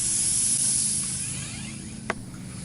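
Hand pump inflating a stand-up paddle board: a continuous airy hiss of pushed air that slowly fades, with one sharp click near the end.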